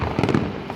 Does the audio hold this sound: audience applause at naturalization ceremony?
no